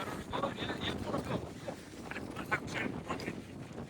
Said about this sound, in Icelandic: Já, Árni, eru menn alveg að fljúga hérna við norðan í svona vindi?